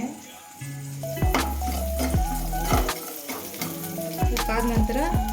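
Mustard seeds and two sprigs of curry leaves crackle in a spoonful of hot oil, tempering a spicy Karnataka-style chutney. The sizzle spits steadily beneath louder background music.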